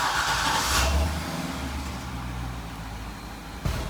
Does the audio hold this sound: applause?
no